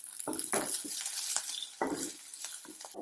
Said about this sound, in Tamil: எல்லாம் ஒரு 2 நிமிடம் ஃப்ரை ஆகட்டும்